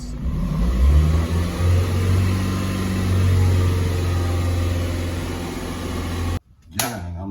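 A 2003 Toyota Celica GT engine revs up from idle, a steady loud mid-range drone that holds for several seconds before cutting off abruptly near the end.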